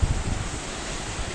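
Strong wind gusts over the microphone high on a sea cliff about 300 metres up on the Sardinian coast, a dense, low roaring buffet that stays steady and close.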